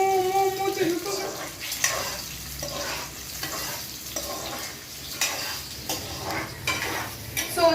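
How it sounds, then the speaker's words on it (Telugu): Onions sizzle steadily in a hot pan while a utensil scrapes and stirs them in rhythmic strokes, close and continuous, cooking toward brown for a Telugu-style fish curry. "ఆనియన్స్ అనేవి ఉంటాయి కదా, అవి బ్రౌన్ కలర్లో అయ్యే వారికి మనం"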